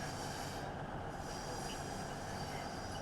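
Passenger train in Train Sim World 6 rolling into Birmingham New Street station, a steady dense rumble of wheels on rails with faint squealing throughout, fairly quiet and continuous, no talk over it.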